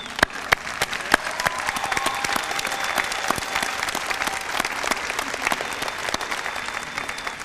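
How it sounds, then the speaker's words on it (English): Seated audience at a school entrepreneurship awards ceremony gives students a sustained round of applause, a steady clatter of many hands with a few sharp, louder individual claps standing out near the start. "One more round of applause for all the students up here."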